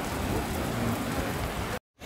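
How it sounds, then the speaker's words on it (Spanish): Heavy rain pours down outdoors at a NASA spaceflight visitor center, a loud, close, steady wash of drops that cuts off abruptly near the end. "Y se dejó caer la lluvia."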